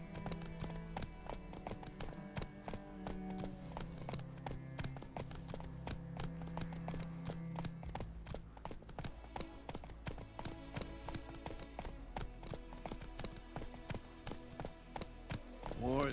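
Hoofbeats of Roach, Geralt's horse in The Witcher 3, pound steadily in a continuous clip-clop rhythm beneath game music and character dialogue.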